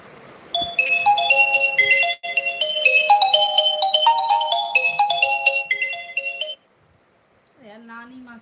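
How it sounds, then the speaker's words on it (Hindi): A mobile phone ringtone for an incoming call plays as a loud, bright melodic tune of repeating chiming notes for about six seconds, then cuts off and a voice speaks briefly. "यार नानी माँ के नंबर से फ़ोन आ रहा है"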